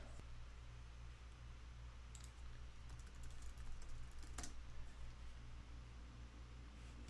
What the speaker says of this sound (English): I think I have to type in Theoria.